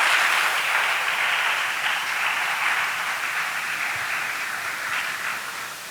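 Sustained applause from a church congregation fills the room, a dense steady wash of clapping that stays loud and even, easing off slightly toward the end.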